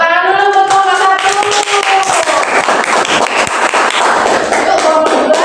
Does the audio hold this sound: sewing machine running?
no